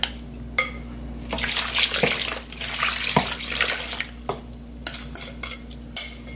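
Water poured over salted radish for dongchimi, a sustained splashing gush that comes in a couple of pours, then gives way to a few scattered clunks and handling knocks.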